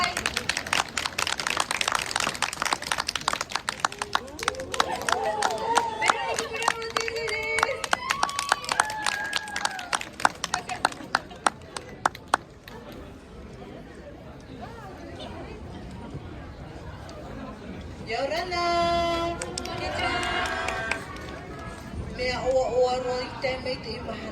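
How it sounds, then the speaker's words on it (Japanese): Audience applause welcoming the Tahitian dancer Vero at a Tahitian dance event: dense clapping fills the first half, then thins out and fades while voices speak over and after it. "拍手でお迎えください"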